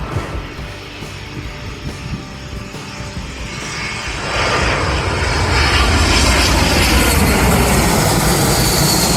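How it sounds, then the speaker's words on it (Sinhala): A SriLankan Airlines Airbus A320 comes in to land at Katunayake, its engine roar swelling from a distant rumble to a loud, sustained drone as it passes close by. "ශ්‍රී ලංකන් එයාලයින් Airbus A320 එක තමයි ලෑන්ඩ් කරන්න ඉන්නේ."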